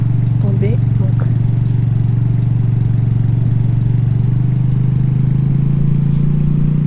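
A car engine in a survival video game idles with a steady, loud low drone that holds constant throughout, with a few faint clicks above it.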